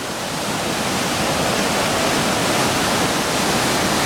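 Swollen creek floodwater after heavy rain, at the Indian Springs Creek confluence with the Pitt River, roars in a loud, steady broadband rush that fills the whole stretch without a break.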